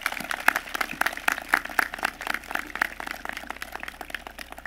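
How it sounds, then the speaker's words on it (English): An audience applauds award winners at a school recognition ceremony, a dense patter of many hands clapping at moderate volume without pause and with no speech. "Let's give one more round of applause for all of our Golden Catalyst winners."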